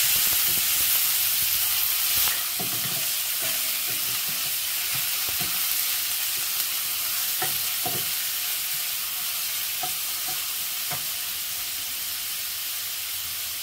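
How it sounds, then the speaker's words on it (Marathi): Chopped onion frying in hot oil for a Marathi chavli leaf vegetable dish, a constant loud sizzle and hiss with occasional spatula scrapes and clicks as it is stirred, with no talking. "तेल गरम झालं की कांदा घालायचा आहे।"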